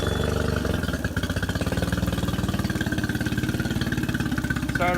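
A 2018 Mercury Fourstroke EFI outboard engine runs close by at a steady, rhythmic idle during an engine flush, its low pulsing drone continuous throughout.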